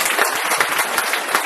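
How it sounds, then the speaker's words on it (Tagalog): Audience at a business opportunity presentation breaks into dense, steady applause, many hands clapping together close and loud for the whole stretch, with no speech on top. "palakpak naman dyan"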